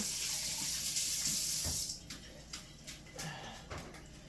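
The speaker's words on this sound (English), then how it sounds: "Wash my hands again." A kitchen tap runs loudly as hands are washed during stew cooking, the steady water hiss cutting off after about two seconds and leaving faint clicks and small handling knocks in a quiet room.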